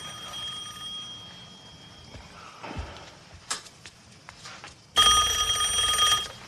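A telephone rings in a quiet house, a thin electronic tone followed by a loud, sustained ring burst near the end.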